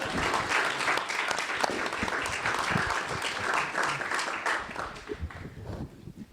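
An audience applauds at a cultural diplomacy event on Japan-U.S. people-to-people ties, giving sustained, even clapping that slowly thins and fades toward the end.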